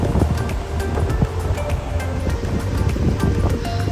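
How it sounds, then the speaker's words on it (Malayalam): The Lidar river flowing through a valley near Pahalgam, Kashmir, a loud, continuous rushing of water with wind noise on the microphone and no talk. "ലിഡാർ നദി ഒഴുകുന്ന സൗണ്ടൊക്കെ കേട്ട്"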